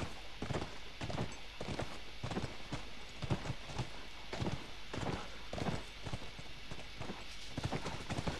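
Horse hoofbeats from The Last of Us video game clop along in a steady walking rhythm, close and distinct, with a faint bed of ambient game sound beneath and no speech.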